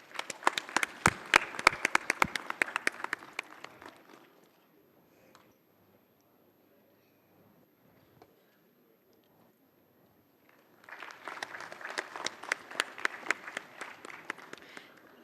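Audience applause at a ceremony marking a diamond jubilee, with loud dense clapping at the start that fades into near silence, then a second strong burst of clapping swelling up near the end.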